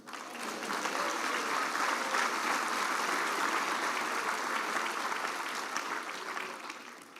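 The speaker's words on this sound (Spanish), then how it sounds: "¿Cuánto da un aplauso al Señor?" A church congregation breaks into applause, a full, even wash of many hands clapping that rises quickly, holds steady for several seconds and eases off slightly at the end.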